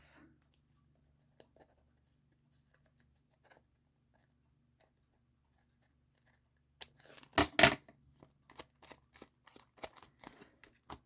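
Scissors snip through paper in a quiet room, starting after long near-silence with a louder rustling cut, then a run of short, crisp clicks at an uneven pace.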